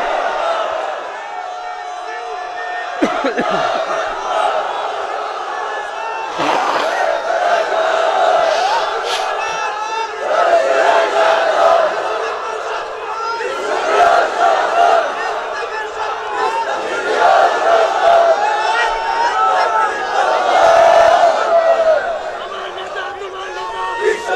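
A large crowd roars a takbir chant back at a preacher's call during a religious gathering, loud sustained shouting of many voices rising in waves over the full stretch.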